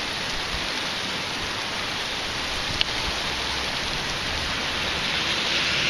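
Heavy rain pours down steadily outdoors in a dense, continuous hiss that stays loud and even throughout, with one brief sharp tick partway through and no voices.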